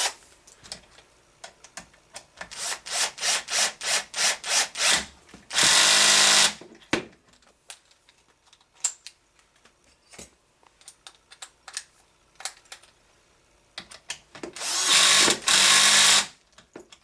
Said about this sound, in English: insert the shorter of the beveled screws just like so. Let's go ahead and tighten all of this up.